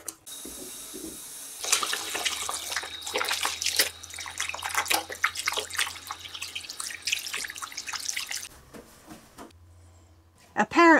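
Hands being washed under a running sink faucet for a short wash, with steady splashing and gurgling water that stops briefly and resumes near the end.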